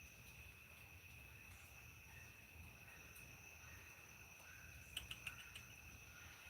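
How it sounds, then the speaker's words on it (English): Cicadas and other insects trill in a steady high-pitched drone, with a brief burst of sharper chirps midway, faint and distant over low background rumble, no talking. "can you guys hear the cicadas and stuff?"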